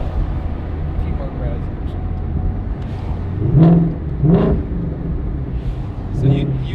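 A 2020 Shelby GT500 engine idles with a low rumble, then blips through three short, sharp revs, with voices talking inside the car.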